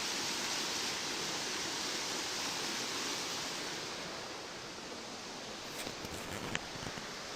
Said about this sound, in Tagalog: Takas ng tubig. Galing bundok.